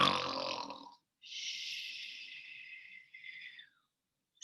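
A voice imitates a bear snoring during a reading of a children's picture book, with a rough breathy inhale, then a long hissing exhale and a shorter follow-up breath, close and fairly loud.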